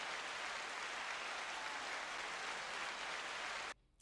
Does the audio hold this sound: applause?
yes